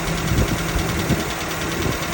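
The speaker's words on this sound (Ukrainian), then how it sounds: "ну так дуже ж вібрації які на цьому моторі" A ZMZ 402 engine in a Volga or GAZelle idles with strong vibration after an ignition timing adjustment, a loud, steady, rough rumble with a pulsing rhythm, close up and without talk.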